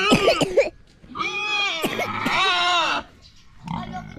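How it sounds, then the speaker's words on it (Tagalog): A large pig on a farm in Calatagan gives short grunts and longer drawn-out squealing oinks, loud and close, with brief pauses between calls. "Nandiyan na po ang baboy"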